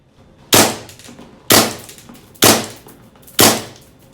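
G&G SMC-9 gas blowback airsoft gun firing four single test shots about one second apart, each a sharp loud crack with a short decaying tail, close up and without speech.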